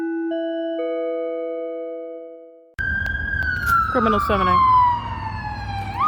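An ambulance siren blares close by as a steady multi-tone wail that fades away, followed abruptly by a louder sliding siren blast, with a voice speaking briefly over it.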